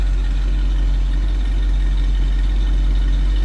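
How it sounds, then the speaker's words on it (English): A 1965 Ford Thunderbird Special Landau Coupe idles with a steady, deep low rumble through its exhaust, unbroken and fairly loud, with no voices. "Nothing crazy with the exhaust. Nice sounding car."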